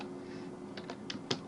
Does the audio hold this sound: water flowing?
no